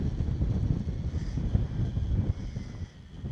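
Steady wind gusting across a microphone at a lakeside tarn wild camp, a loud, low rumbling buffet that fluctuates and eases slightly toward the end, with no voices.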